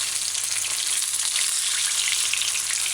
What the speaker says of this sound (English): The sizzling of the oil got less.